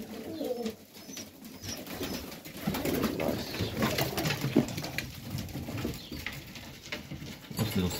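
Highflyer pigeons in a Melbourne, Australia loft coo softly and continuously, a close, steady murmur of several birds with faint rustling and no talk.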